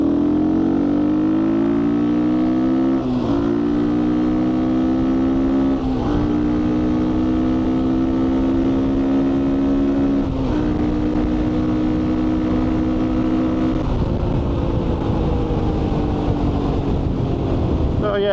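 A GPX FSE250e motorcycle on knobbly tyres rides along a road, its engine droning steadily and rising in pitch through several gear changes, loud and close with wind rush and tyre noise beneath.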